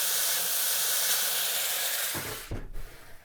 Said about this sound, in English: Open it again and pour some boiling water into the dish